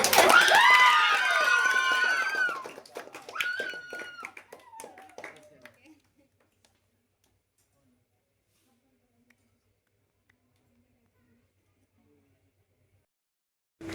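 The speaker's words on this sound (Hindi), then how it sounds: "आप लोग एक बार जोरदार ताली के साथ" Audience clapping at a dance camp event at a dance studio, loud and dense for roughly six seconds amid voices and cheering, then dying away to near silence.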